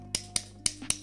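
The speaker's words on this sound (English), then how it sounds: "you'll hear some clicking. And the clicking prevents it from being loosened while you can still tighten it." Ratcheting adjustment key on a 3D-printed alternative to the Oculus Elite headstrap turned by hand, giving four crisp, evenly spaced clicks close up over a quiet hum.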